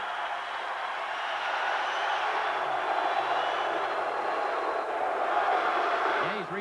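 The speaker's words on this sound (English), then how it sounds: "Billy has 4, and the crowd roars." An arena crowd at a Pistons versus Bulls basketball game roars in a broad, sustained wash of cheering that swells slightly and holds for several seconds.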